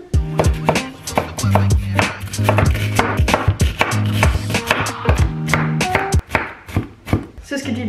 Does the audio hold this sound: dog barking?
no